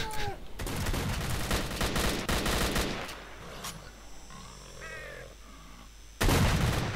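Bandits fight off mutants in S.T.A.L.K.E.R.: Call of Pripyat with rapid, sustained bursts of gunfire that die down, then one sudden loud burst returns near the end.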